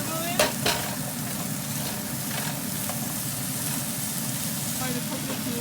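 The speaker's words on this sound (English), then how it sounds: "I'm going to add the rest of the vegetable in." Vegetables fry in a hot pan for curry chicken, giving a steady, fairly loud sizzle throughout, with a couple of brief utensil knocks near the start.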